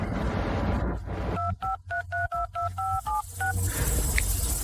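A series of about nine telephone touch-tone dialing beeps in quick succession, evenly spaced, clear and close, over a low background hum with no talking.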